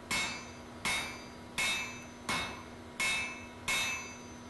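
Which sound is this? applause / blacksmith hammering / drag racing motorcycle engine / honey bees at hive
blacksmith hammering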